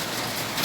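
Heavy typhoon rain in Taipei hisses as a dense, steady wash of drops striking surfaces just outside a sheltered spot, a brief moderately loud burst with no voices.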